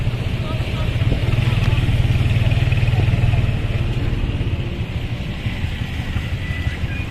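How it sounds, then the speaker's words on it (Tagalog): Heavy road traffic on a rainy day heading toward Cubao, with a steady low rumble of idling and creeping engines close by and people talking over it. "Grabe yung traffic."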